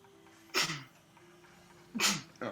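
Two loud human sneezes about a second and a half apart, the second followed quickly by a smaller burst, close and clear over a quiet room with a faint steady hum.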